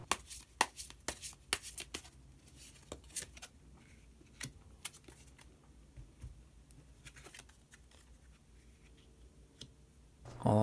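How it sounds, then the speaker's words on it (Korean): Tarot cards shuffled and drawn at a reading table: a quick run of crisp card snaps and clicks, then sparse soft flicks and slides, close and fairly quiet, with a louder rustle at the very end. "그러면 마지막으로 히든 카드 한 장 더 뽑아보도록 하겠습니다."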